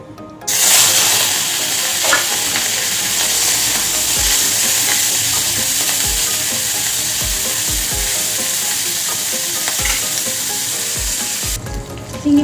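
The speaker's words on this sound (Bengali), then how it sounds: "এবার আমি চিংড়ি মাছ ভেজে নেব।" Shrimp frying in a little hot oil in a wok: a loud, continuous close-up sizzle with occasional stirring knocks and scrapes of a utensil against the pan.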